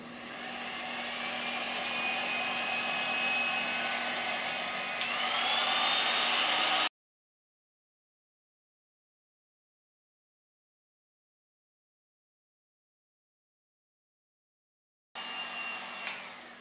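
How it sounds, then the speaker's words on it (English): A heat gun blows on shrink wrap with a loud, steady whirring roar for several seconds, then cuts out into total silence before starting up again. "So I am just going to use the heat gun to shrink my shrink wrap."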